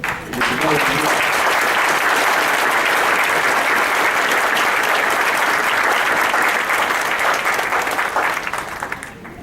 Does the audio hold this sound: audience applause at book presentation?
yes